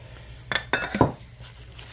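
Speckled ceramic spoon rests clink and knock together as they are handled, three or four quick close clatters within about a second, with no talk.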